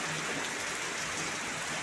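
Heavy rain pours in a dense, steady hiss with close patter, as if drumming on a large umbrella, continuous and loud throughout the short stretch with no voices.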